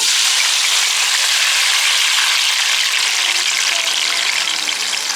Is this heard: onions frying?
yes